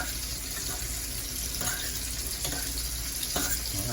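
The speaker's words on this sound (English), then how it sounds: "Go ahead and give these noodles a little stir here." Noodles boiling in a pot of water on a hotel-room stove, a steady bubbling wash with a few soft scraping stirs, close and continuous with no talking.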